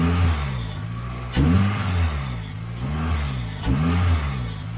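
A 2003 Toyota Corolla Sportivo with its stock intake revs hard several times in a row, each blip rising and falling back toward idle, loud and close with no talk.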